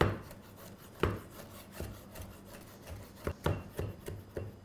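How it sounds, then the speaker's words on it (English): A knife chops kimchi on a cutting board in a home kitchen, a run of irregular close thuds and scraping strokes, some clustered quickly together, with no talking. "I'm going to take it out on the board and I'm going to chop it."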